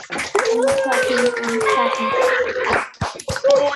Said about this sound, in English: let's just have a round of applause for all the prize winners and all the helpers